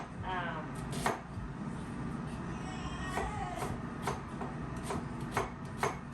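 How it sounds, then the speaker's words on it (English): A knife chops onions into small diced pieces for samosas, giving sparse, crisp taps on a cutting board at irregular intervals over quiet kitchen background. "We're going to chop those up into small diced"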